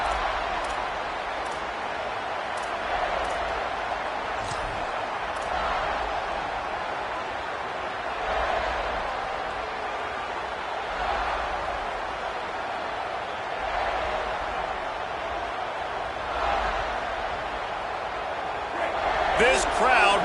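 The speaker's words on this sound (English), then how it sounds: "This crowd bringing an ear-splitting welcome to their visitors" A stadium crowd in an NCAA college football video game roars in a steady, dense wash that swells in places, with a commentator talking over it throughout.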